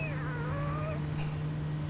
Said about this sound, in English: did that cat noise come from? That was interesting.